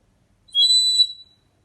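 A small bird-shaped whistle blown once, giving a single hollow, breathy whistle tone held for under a second, fairly loud and alone with no talk around it.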